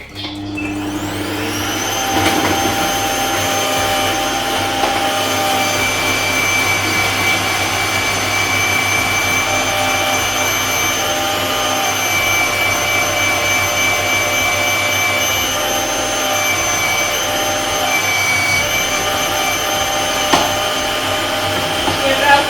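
A Bosch CompactPower electric meat grinder motor starts up and runs with a steady loud whine and hum, continuing without pause.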